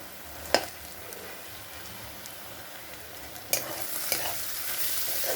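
Grated carrot fries quietly in a pan, a soft continuous sizzle broken by a few brief spatula scrapes and knocks against the metal.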